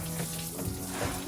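Water pouring and splashing steadily from radiator hoses just pulled off a neglected, overheated vehicle in the Florida woods, a continuous close rushing trickle.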